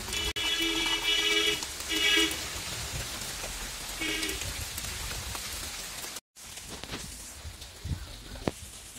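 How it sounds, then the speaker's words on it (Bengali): Rain patters steadily outside a window as a soft, continuous wash, with short tonal sounds and faint voices breaking in over it now and then. "বৃষ্টির এই টাপুর টুপুর আওয়াজটা আমার ভীষণ ভালো লাগে"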